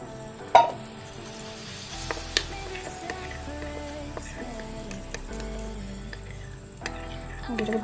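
A spoon stirs chilli paneer gravy thickened with cornflour in a pan, giving sparse light clinks and scrapes against the metal, with one sharper knock early and faint kitchen background between.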